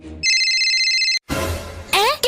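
A telephone rings indoors at night in short loud electronic bursts, close to the listener, broken by a brief gap and followed by a rustling clatter.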